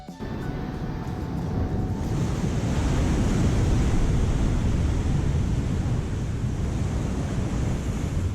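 Waves wash onto the beach at Cathedral Cove, New Zealand, a continuous broadband surf rush that builds after a quieter start, mixed with wind buffeting the microphone.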